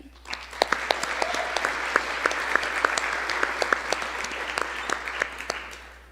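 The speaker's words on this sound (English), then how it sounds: "Would you all please join me in giving another round of applause to all of our outstanding candidates?" Sustained applause from a banquet audience at a university honors banquet, steady dense clapping with scattered sharper claps, fairly close and fading slightly at the end.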